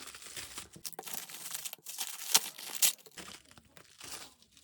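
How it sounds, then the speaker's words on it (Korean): A delivered parcel package is torn open at home, with repeated crinkling and ripping of packaging material, close and fairly loud, in irregular bursts including a couple of sharp tears. "집에 오늘 택배가 와 있어서 한번 뜯어볼게요"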